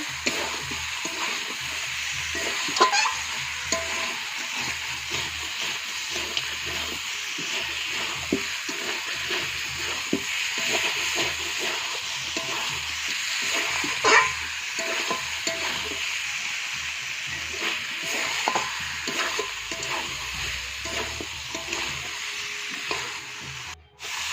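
Chicken being sautéed in a pan, a continuous crackling sizzle broken by frequent scraping and knocking strokes of a spatula, fairly close and steady, with no voices.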